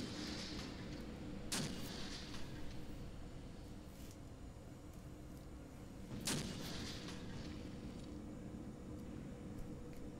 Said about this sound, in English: A lot of artillery coming from the enemy